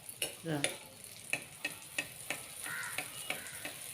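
Neyyappam frying in coconut oil as oil is spooned over the top: a faint, soft sizzle broken by a series of sharp, irregular spoon taps and scrapes against the pan, close by, with no voices.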